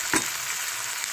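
Ivy gourd fry with tamarind sizzling steadily in a pan, one sharp scrape of a stirring spoon near the start and a faint clink toward the end, close and with no talk.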